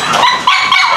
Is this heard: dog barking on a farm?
yes